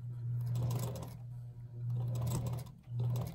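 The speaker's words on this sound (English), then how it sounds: "So I just sew down." A sewing machine stitches a fabric seam, sewing over a strand of floss, its steady motor hum running in three close bursts with brief pauses between them.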